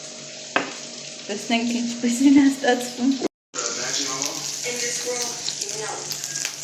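Pumpkin dish frying in a pan, a steady bright sizzle and hiss running the whole time beneath a person talking, with a brief sharp cutout partway through.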